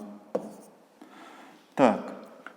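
A pen writing numbers on paper for a long-division problem, soft scratchy strokes with a firmer scrape near the end, close and quiet, with a voice speaking around it.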